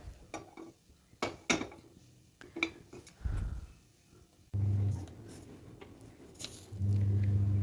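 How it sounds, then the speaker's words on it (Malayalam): A pan set down on a stovetop with light clinks and scrapes, then a steady sizzle and hum once oil is poured in as it heats, close and clear with no talk. "ഒരു പാൻ അടുപ്പിൽ വെച്ചു ആ പാന് ചൂടായി വരുമ്പോഴേക്ക് അതിലേക്ക് എണ്ണ ഒഴിച്ചു കൊടുക്കുക"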